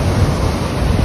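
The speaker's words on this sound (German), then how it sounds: "Wie die Wellen da an die Felsen donnern." Ocean waves crash against rocks on the Spanish coast, a loud steady roar of surf with wind buffeting the microphone and no voices.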